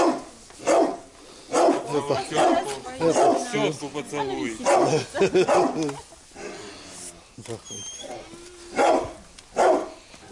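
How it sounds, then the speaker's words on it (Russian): During an Easter family visit, a dog barks in repeated short bursts, mixed in with loud, overlapping conversation close by. "Собачка."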